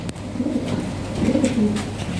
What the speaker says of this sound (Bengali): কবুতর দেখেন ভাই,